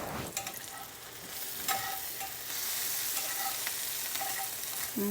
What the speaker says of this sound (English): I just want to cook this a little bit until my sausage is kind of browned and the onions are a little browned as well